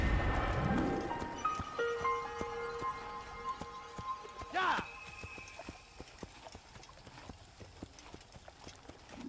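Hooves clip-clop steadily as a horse is ridden in Assassin's Creed I, a rhythmic trot in a game world with music swelling and a brief whoosh midway, while someone talks over it.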